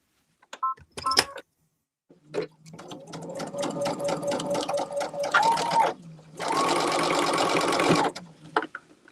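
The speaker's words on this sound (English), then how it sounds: "I'm going to sew along here." A sewing machine stitches a quilt block in short starts, then runs in a longer steady whir with a brief pause before a final sustained burst. It is close and clear, with small handling clicks around the stitching.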